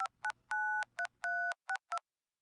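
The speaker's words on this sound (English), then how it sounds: "To show you the contrast between operator tones and touch tones" Telephone touch-tone DTMF dialing: seven crisp dual-tone beeps in quick irregular rhythm, some short and some held longer, clear and alone before silence.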